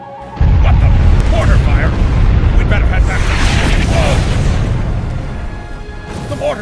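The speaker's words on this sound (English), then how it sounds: "What the? Mortar fire?" Mortar shells burst in Star Trek Online: a loud, heavy boom hits suddenly, then rolls into a sustained rumbling roar of explosions and debris, with faint voices underneath, easing slightly toward the end.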